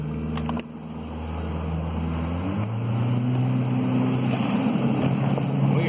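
A 2014 Sun Tracker fishing barge with a 75hp Mercury 4-stroke outboard is put in gear and takes off, the motor's hum rising in pitch and strength as it accelerates over water and wind noise.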